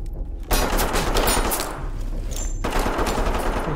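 Loud, dense rifle gunfire in the tactical shooter Ready or Not, a sustained burst of rapid shots that breaks off briefly and then resumes, close and without talk.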